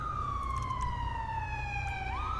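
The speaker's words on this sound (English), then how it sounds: "what is that fucking ambulance doing?" A wailing ambulance siren in GTA V with the LSPDFR mod sweeps slowly downward in pitch, then jumps sharply up near the end, sounding moderately close over a low engine rumble.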